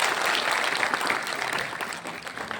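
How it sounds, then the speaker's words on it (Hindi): A crowd at a municipal corporation ceremony claps in a continuous, lively burst, many hands blending into a steady wash that eases slightly toward the end, with no speech over it. "तो जोरदार तालियां आप सभी के लिए।"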